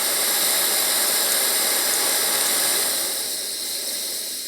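A Coleman Exponent 550b single-burner camping stove turned up to high, roaring with a steady broadband hiss that holds level, then eases slightly toward the end; no talk.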